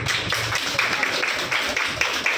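A group applauds the captain of a quiz team, a dense, steady patter of many hands clapping that continues without a break.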